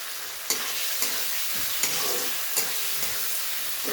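Paneer with a little sugar frying and being stirred in a pan, a steady bright sizzle broken by soft periodic scraping strokes, close and moderately quiet.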